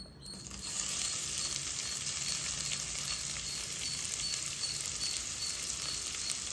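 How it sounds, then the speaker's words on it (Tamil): Finely chopped onion fries in about two spoons of oil in a pan, giving a steady, soft sizzle that crackles without stopping. No one speaks. "அதே பாத்திரத்தில் எண்ணெயை விட்டுக்கலாம். 2 ஸ்பூன். அப்புறம் பொடிசாக நம்ம நறுக்கி வச்சிருக்க வெங்காயத்தை சேர்த்துக்கலாம்"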